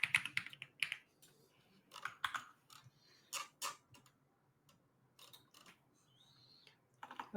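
Typing on a Windows computer keyboard, with irregular bursts of clicky keystrokes and short pauses in between, close and fairly quiet, with no talking.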